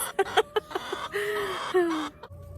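Chickens cluck in short, choppy bursts nearby, followed by a longer drawn-out squawk, fairly quiet with some background rustle.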